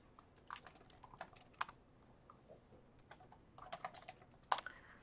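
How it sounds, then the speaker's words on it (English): Sporadic keystrokes on a computer keyboard, soft, close clicks in small irregular bursts separated by pauses, with a sharper flurry near the end and no voices. "typing again"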